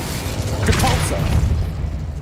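A Depulso force-push spell cast in Hogwarts Legacy, a booming magical whoosh with a low rumbling thump that swells and fades over a couple of seconds amid game background sound.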